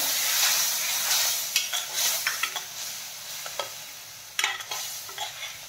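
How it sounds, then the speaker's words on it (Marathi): Onion and cashew paste frying with turmeric and spices in a pan for kaju curry, a continuous sizzle broken by repeated scraping stirs of a spatula, close and with no talk. "त्यामध्ये आता आपण कांदा आणि काजूची पेस्ट बनवून घेतलेली टाकून घेऊयात"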